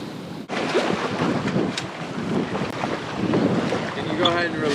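A sailboat tacks in a zigzag through wind and waves, with loud gusting wind buffeting the microphone over the wash and slap of water against the hull.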